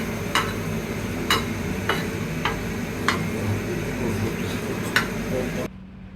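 Chilies being stirred in a pan for chili bharta, with a low frying hiss under a series of sharp clicking taps of the spoon against the pan, six or seven in a loose rhythm, ending abruptly.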